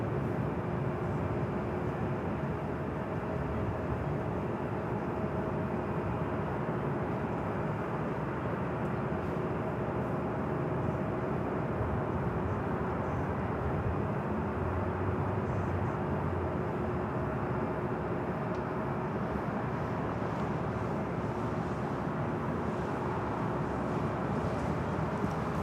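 A Starlux airliner on approach near LAX, arriving from Taipei: a broad, steady jet roar that holds loud and even throughout, with no voices.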